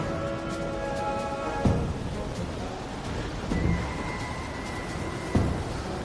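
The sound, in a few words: storm with thunder and rain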